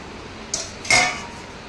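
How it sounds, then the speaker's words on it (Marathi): Mango pickle ingredients stirred in a metal vessel, giving two brief clinks of a utensil against the pot, close and clear in a quiet kitchen. "चला आता मी हे मिक्स करून घेत आहे"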